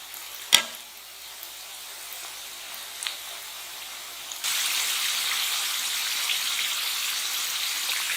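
Potato sticks for homemade French fries fry in hot oil, a faint soft hiss that swells into a louder, steady bubbling sizzle partway through, marked by a sharp click near the start and a lighter tap later.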